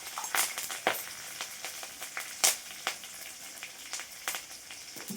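Dried red chillies, curry leaves and turmeric crackle and sizzle in hot oil as a tempering for spinach buttermilk rasam, with sharp irregular pops scattered over a soft, steady hiss and no voices.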